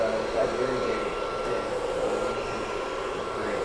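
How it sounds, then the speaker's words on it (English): A hair dryer on medium heat blows steadily while drying a beard, a constant close whooshing hum for the whole stretch with no breaks. "The hairdryer's on a medium heat"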